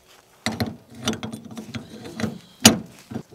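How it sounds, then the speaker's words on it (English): Prop puller working a boat propeller off a longtail outboard shaft, a few short mechanical ratcheting clicks and metallic knocks close by, with a sharper bang near the end. "This is the prop puller here."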